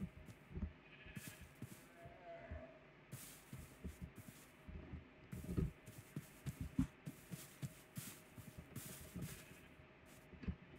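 Sheep in the RLCraft Minecraft modpack, with repeated short bleats sounding close and quiet over a faint low background and no talk.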